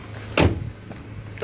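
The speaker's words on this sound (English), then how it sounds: "Open the car boot" A Toyota Allion/Premio car boot is opened with a single latch clunk and short mechanical thud, followed by faint rustling and a light click near the end, close by in a quiet setting.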